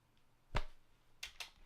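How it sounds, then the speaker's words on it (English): A man punches himself to record sound effects, making dull thumping hits: one strong blow, then two more close together a moment later, all fairly faint against a quiet background. "That is actually a sound of me actually punching myself"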